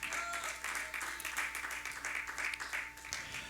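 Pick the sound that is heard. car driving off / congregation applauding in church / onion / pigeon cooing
congregation applauding in church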